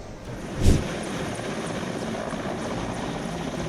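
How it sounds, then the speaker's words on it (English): An AgustaWestland AW169 helicopter sits on the ground in Hidalgo with its rotors turning, giving a steady, loud broadband whir with one brief heavier thump near the start. "the Augusta Westland AW169 helicopter was on the ground with its rotors in motion"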